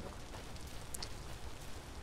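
Steady rain falling in the video game Vintage Story, a soft continuous hiss with a couple of brief brighter drips partway through, quiet and alone with no talking.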